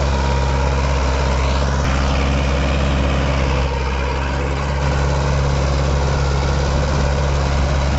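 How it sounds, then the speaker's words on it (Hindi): A tractor working a tiller in hard, compacted farmland labours under heavy load with the hydraulics held fully down, giving a loud, continuous low engine drone that holds steady throughout with no voices. "बहुत जोर पड़ रहा है जी ट्रैक्टर पे, पूरे हाइड्रोलिक नीचे धर के"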